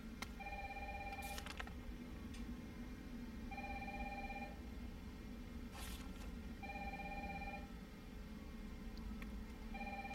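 Telephone ringing inside the Resident Evil 3 Remake video game, a repeating electronic ring in regular bursts over a steady low game ambience, with no talk.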